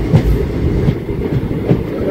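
Rajkot–Secunderabad train on the rails, heard as a steady close rumble with rhythmic clickety-clack of wheels over joints, continuous throughout with no voices.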